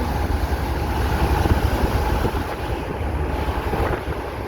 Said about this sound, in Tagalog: Oh, lakas ng propeller niya, oh, dalawa.